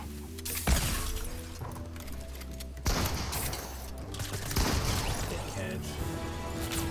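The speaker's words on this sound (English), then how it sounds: "when I see the chance for a shot, I take it" Charge shotgun fire in the Fortnite video game, heavy blasts and crashing impacts over constant dense game noise, loud and close, with a player talking over the action.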